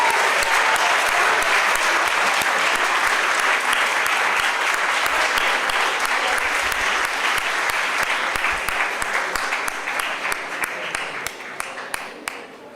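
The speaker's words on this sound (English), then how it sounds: "Let's hear a great round of applause." An audience at a biotech skilling programme session applauds with dense, sustained clapping that holds loud for about ten seconds and then thins out toward the end.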